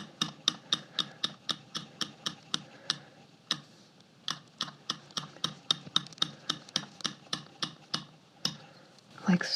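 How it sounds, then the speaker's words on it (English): Blade chopping flattened polymer clay into small pieces on a work surface: steady, rapid, close tapping cuts about three per second, crisp and even, with a brief pause midway and no talking. "I'm going to cut it into little pieces."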